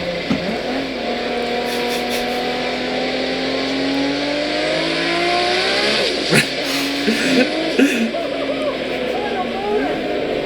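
A Toyota Supra race car engine revs hard and steadily, its pitch climbing and falling close by while voices talk over the constant roar.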